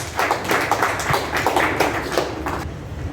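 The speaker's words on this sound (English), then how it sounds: "Clap for him as he comes." A company launch audience in Ruiru, Kenya claps in a dense, continuous patter of applause, close and loud, holding steady for the whole span before thinning slightly at the end.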